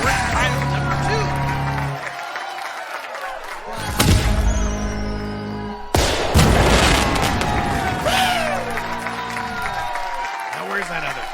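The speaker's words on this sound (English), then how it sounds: "Fireworks pile number 2." A second Fourth of July fireworks pile erupts with heavy booming blasts around four and six seconds, followed by crackling, whistling rockets and scattered pops, with faint crowd noise underneath.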